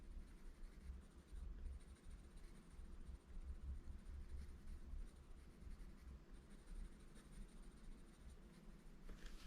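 A Coloursoft colored pencil rubs steadily across paper, a soft continuous scratchy scribbling close up and faint, with no voices.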